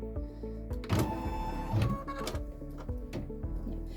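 An embroidery machine stitching an outline gives off quiet, fast mechanical ticking and whirring with a rhythmic chatter, heard close and alone.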